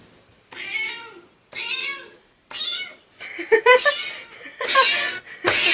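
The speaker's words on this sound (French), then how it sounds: "On a samplé son miaulement." Repeated cat meows from the cat Flamme, sampled into a music track, come in short separated bursts, several in a row, with laughter and chatter mixing in toward the end.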